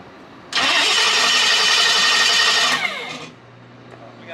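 A loud, raw engine with no exhaust mufflers suddenly roars to life and runs at a steady, harsh, unmuffled rasp for a couple of seconds before dropping to a rough idle.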